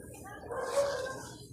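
A native chicken clucks in a short, close burst of rising calls over a dull background hum, with no one speaking.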